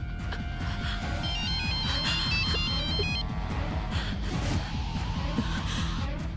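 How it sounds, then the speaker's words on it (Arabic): A mobile phone rings in a scene from an Indian drama series, its bright electronic ringtone melody repeating for a few seconds over a dense, loud musical underscore before fading into the music. "تليفونك اللي عم يرن؟"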